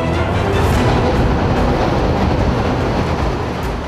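A train rushes past at close range through a tunnel beside a narrow refuge where track maintenance workers shelter, a loud, dense, continuous roar of rumbling wheels and rattling cars with no break.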